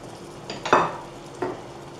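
Coarsely chopped onion dropped into a hot pan for aubergine mdarbal and stirred: a short hiss of sizzling with a scraping stir, then a second softer burst, close and moderately loud, without talk.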